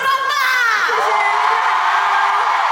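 A fan-concert audience in Taipei cheers and shrieks in a loud, sustained wash of high voices that fills the room throughout.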